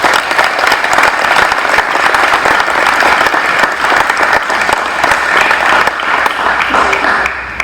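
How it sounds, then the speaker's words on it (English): An audience at a school awards ceremony gives sustained applause, dense and loud, holding steady for several seconds before easing slightly at the end, with no talking. "please join me in a round of applause for recognizing Miss Tessamaya"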